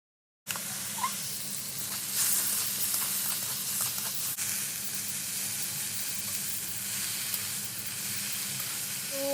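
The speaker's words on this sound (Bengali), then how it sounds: "ঢ্যাঁড়স ভাজা হয়ে গেছে" Steady close sizzling and crackle of okra frying in hot oil in a pan, continuous throughout with a faint stir or clink now and then.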